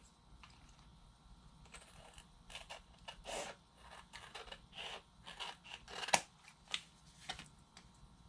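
Paper being trimmed by hand with scissors for a mini card folder craft, a series of close, soft snipping and rustling cuts in uneven rhythm, with one sharper snip near the end.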